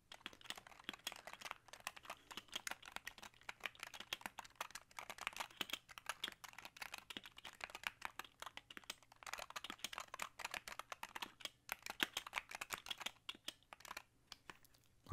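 Fast, continuous clatter of a computer keyboard being typed on, close and crisp, with brief pauses and a low steady hum underneath and no talking.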